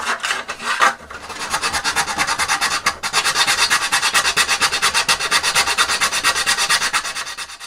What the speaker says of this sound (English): I'm going to carefully file down just one edge of that until this fits